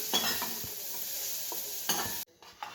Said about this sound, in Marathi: आता सेपरेट पनीर भाजून घेते थोडस तेल टाकून